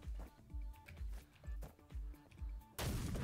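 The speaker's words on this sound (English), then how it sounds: "I'll use a grenade for that." A grenade in the video game Neon Abyss, preceded by a series of rhythmic booming weapon shots and ending in a loud, broad explosive blast that carries to the end.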